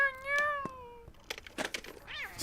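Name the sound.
cat meowing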